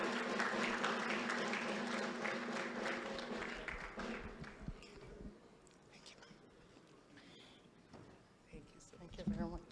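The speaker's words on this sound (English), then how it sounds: "Please keep clapping for her." Applause from a dinner audience at a business and government directors' conference, a full wash of clapping that thins out after a few seconds, with a voice speaking as it fades.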